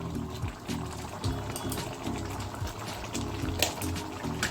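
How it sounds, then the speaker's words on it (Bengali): About a spoonful of ghee poured into a pan of paneer ghugni, a soft steady liquid sizzle and trickle, close and fairly quiet, with no talking. "ঘি দিচ্ছি 1 চামচের মতো।"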